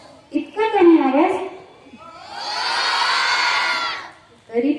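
A crowd of schoolchildren at a school event shouts together in one sustained, loud collective yell, preceded by an adult addressing them and followed by the start of another shout.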